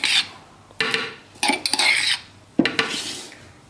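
Dried pomegranate seeds are added to coriander and mint for green chutney, producing close, loud rattling and scraping of utensils against a dish in several bursts.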